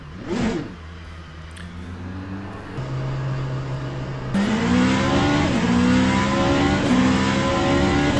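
A racing hypercar engine in a sim racing game revs loud and close, pitch sweeping up and down through gear changes, then settling into a sustained high-revving drone alone with no voices.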